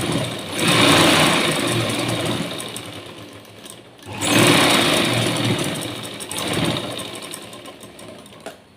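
A sewing machine stitches a loose hemming strip onto a blouse sleeve, running in two close, fast mechanical bursts with a brief pause between them.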